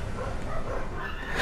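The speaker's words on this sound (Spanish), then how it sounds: "Ya empezó a ladrar un perro." A dog barks in the background while an arcade fighting game plays, the sound brief and fairly loud against the game noise.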